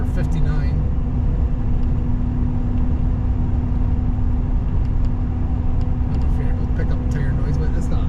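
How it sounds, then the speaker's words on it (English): Steady broadband road roar with a low engine hum, tires rolling continuously over a snowy surface from inside a moving truck. "Pick up tire noise, but it's not bad at all."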